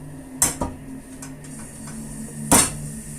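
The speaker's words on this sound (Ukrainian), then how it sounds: "Розмішую і все, макарон нехай звариться і все готово." A metal utensil stirring pasta clinks against a pot a few times, with sharp knocks early and near the end, close by and fairly quiet.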